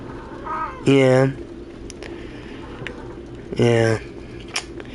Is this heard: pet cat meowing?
yes